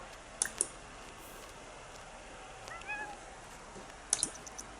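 A cat in The Sims 4 gives a short meow amid quiet game ambience, framed by a few faint clicks and taps at the start and end.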